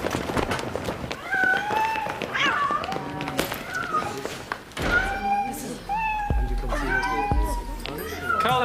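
A domestic cat meowing repeatedly in short, rising cries over a busy background of movement and scuffling, moderately loud and fairly close.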